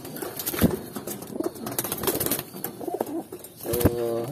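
A pigeon or dove cooing at close range in a backyard where birds are being dewormed, several soft repeated coos with a brief flutter, no talk.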